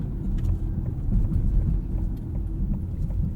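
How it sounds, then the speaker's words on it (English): A 2021 Ford Mustang Mach-E Premium AWD rolls over a bumpy road, giving a steady low rumble of tires and road noise from inside the cabin with small irregular thumps and no talking. "Pretty bumpy road, and the Mach-E isn't phased"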